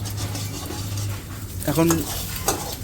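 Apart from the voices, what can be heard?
egg being fried in a pan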